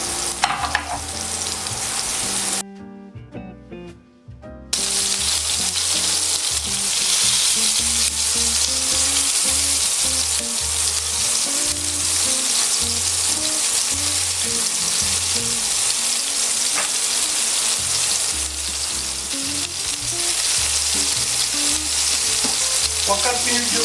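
Monkfish medallions pan-frying with olives and tomatoes give a loud, steady sizzle close up, with a brief dropout early on and then a continuous dense crackle over low background music.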